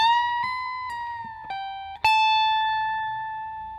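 Electric guitar solo lick from a song, a few sustained bright notes with pitch bends and a final high tapped note that rings out loud and clear with no talking.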